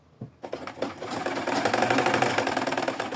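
A sewing machine stitches necktie fabric, its rapid mechanical whir starting after a brief pause and running steadily and loudly up close with a fast, even rattle.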